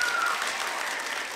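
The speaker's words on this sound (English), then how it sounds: "Round of applause if you do not like dabbing" Live comedy-show audience claps in steady, dense applause, loud and sustained throughout, with no voice over it.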